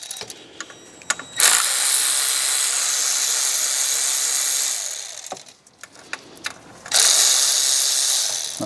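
A ratchet removes pulley bolts on a BMW N62 engine, heard as close, rapid clicking runs of several seconds each, separated by a few quieter handling clicks.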